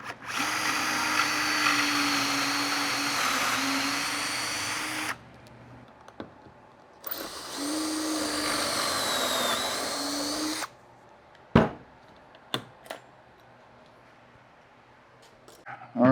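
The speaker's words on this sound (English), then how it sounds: "sand it, do some preliminary sanding." An electric sander works wood with 80-grit paper on an Arts & Crafts lamp table shelf: two long, loud buzzing runs, then it stops, leaving scattered clicks and knocks.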